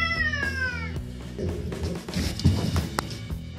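An angry cat gives a sharp, rising meow up close, followed by rustling, soft taps and thumps as it scuffles about.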